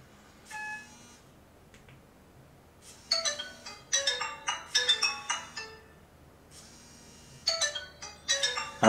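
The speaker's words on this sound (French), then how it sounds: "Ah, les fameuses sonneries." Retro-style Nokia HMD phone ringtone chimes in short bright bursts, a brief tone near the start then clustered melodic beeps after a pause, close and clear with no talk.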